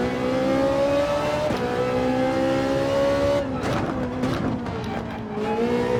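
A Ferrari engine in Gran Turismo 7 revs hard and climbs in pitch, with quick gear changes shifting the tone up and down. The revving is loud, continuous and up close, with no talk.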